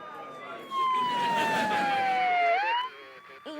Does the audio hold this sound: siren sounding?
yes